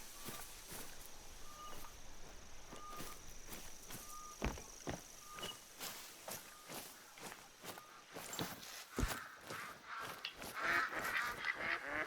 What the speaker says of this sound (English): those mallards are coming in somewhere